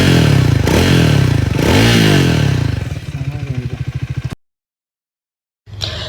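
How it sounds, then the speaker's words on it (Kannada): A Triumph Speed 400 motorcycle ridden along, its loud exhaust note rising and falling with revs for about four seconds, then cutting to silence before a brief burst returns. "ಎಕ್ಸಾಸ್ಟ್ ನೋಟ್ ಎಲ್ಲ ಕೇಳಿಸ್ಕೊಳ್ಳಿ."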